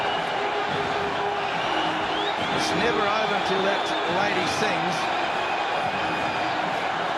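Cricket crowd in Barbados cheering as the West Indies beat Australia, a dense, loud roar of voices with whistles, under a commentator talking.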